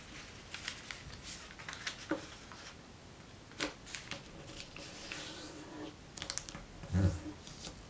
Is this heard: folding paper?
yes